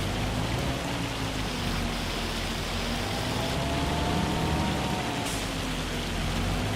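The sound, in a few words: hail falling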